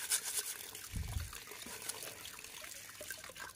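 Water carrying sand trickles and drains steadily through a sieve with a soft gritty rush, close by, briefly louder near the start, with no voices.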